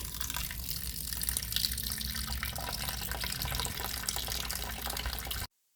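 Steady running water pours and splashes continuously into a pot of chicken being cooked, like a tap filling a pot, with no voices.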